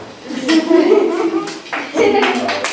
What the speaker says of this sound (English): Let's give everybody a round of applause for their wonderful stories.